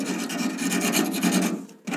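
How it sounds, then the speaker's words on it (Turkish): Sandpaper scrubs a gas combi boiler burner during cleaning, a close, loud rasping in quick repeated back-and-forth strokes that briefly stops near the end, with no voices. "Zımparalıyorum."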